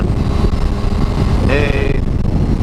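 A 2016 Kawasaki ZX6R 636 motorcycle engine drones steadily while riding, with loud wind rumble and a voice talking over it.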